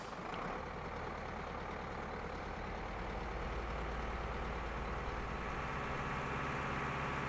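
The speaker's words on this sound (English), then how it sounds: "better engine sounds as well" Continuous, steady drone of a truck engine running in Farming Simulator 19, a dense low rumble holding at an even level with no talking.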